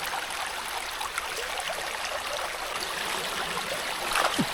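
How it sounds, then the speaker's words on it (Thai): Floodwater from a storm rushes in a steady, broad hiss, flowing continuously close by with no voices. "น้ำน้ำท่วมเลยน้ำไหลมันมาดำน้ำมือกันเลย ไหลมาตามน้ำนี่แหละ"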